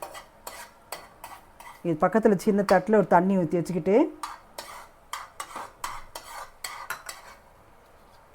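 Athirasam syrup boiling in a kadai is stirred steadily with a metal spoon, leaving a run of scraping, clinking strokes close by, with someone speaking over the middle stretch.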